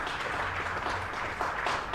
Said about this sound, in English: And applause for some rare aggression from the Glamorgan pair.